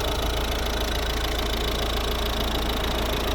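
Diesel engine of a 2010-12 Volvo V50 R-Design, a 1.6 D2 unit built by Peugeot Citroën, running steadily at idle with a continuous broadband clatter and hum, close and alone, with no talking.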